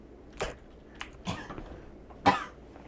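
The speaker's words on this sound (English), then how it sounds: "If you heard me coughing, that's because some of the soda I just drank hurt throat." A man coughs after soda went down the wrong pipe, giving three or four short, close, harsh coughs spread out with brief pauses, the last one loudest.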